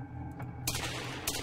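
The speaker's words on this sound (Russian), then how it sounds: "Поэтому я стреляю по противнику" A weapon fires twice at an enemy in the video game Project Helena: two sharp, loud blasts about half a second apart over a low droning background.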